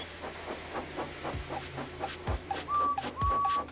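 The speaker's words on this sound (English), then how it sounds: "So they lit his fire, made lots of steam, and Edward puffed away." A steam locomotive chuffs in an even rhythm, each puff a soft burst of hiss, with a couple of short whistle-like tones near the end, at moderate volume and without speech.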